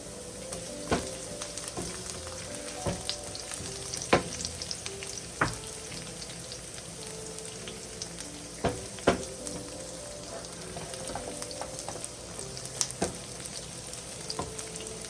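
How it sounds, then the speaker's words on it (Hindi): Coarsely chopped garlic sizzles and fries steadily in a pan, with occasional sharp pops and crackles over a constant low hiss. "अब मैं इसके अंदर डालूंगी लहसुन"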